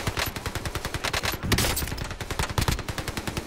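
Rapid automatic gunfire in the Call of Duty Rebirth Island zombie mode, dense bursts of sharp shots rattling close and loud with a brief heavier blast mid-burst.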